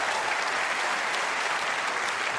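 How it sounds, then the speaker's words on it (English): Audience applause at a snooker championship qualifying match after a century break, a sustained, even wash of clapping from the crowd throughout. "Are they going to keep the applause going while he's clearing up?"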